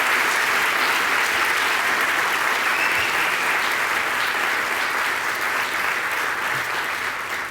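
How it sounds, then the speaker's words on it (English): A conference audience applauds, dense steady clapping from a large crowd that holds at full strength for the whole stretch, loud and close, with no voices over it. "I want a round of applause for Jameson and Matt Zabriskie."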